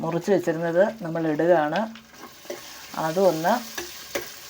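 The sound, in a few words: green chilies frying in a clay pot over a wood fire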